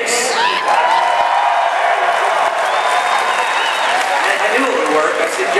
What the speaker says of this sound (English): I know how to get you all to clap.